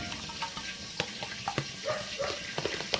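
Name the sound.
pineapple cooking in island-style BBQ sauce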